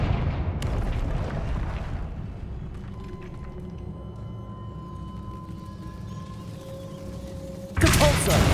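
Confringo fire spell from Hogwarts Legacy, a loud booming blast that fades into a rumbling tail with lingering tonal ringing, then a second sharp burst near the end.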